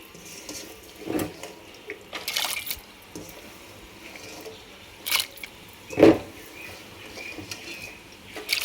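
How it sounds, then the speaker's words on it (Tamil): Sprouted mixed legumes get rinsed in water, with a few separate bursts of sloshing and pouring spread apart, close by and moderately loud against a quiet room. "தண்ணி விட்டு ஒரு அலம்பு அலம்பிடுவோம்"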